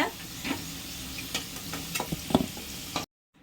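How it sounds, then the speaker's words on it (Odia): Potatoes fry in oil until golden, a close crackling sizzle broken by stirring clatter and small spoon knocks, ending abruptly in silence. "ଏହିପରି ଗୋଲ୍ଡେନ୍ କଲର୍ କରି ଆପଣ ଆଳୁ ଗୁଡ଼ିକୁ ଆମେ ଛାଣିବା"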